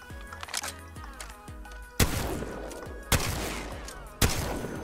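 Gunfire in the shooter game Apex Legends: a quick burst of sharp shots, then three heavy, booming blasts spaced about a second apart, each with a ringing tail.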